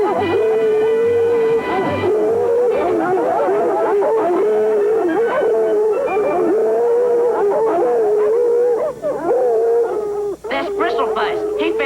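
A hound bays in long, drawn-out, wavering howls during a fox chase, loud and close, continuing almost without a break across the whole stretch.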